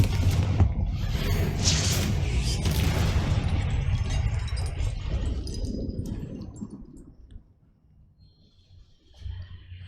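Spells are cast and burst in Hogwarts Legacy with loud booming blasts and crackling impacts that crowd the first few seconds, then fade into a quieter rumble before a last low thud.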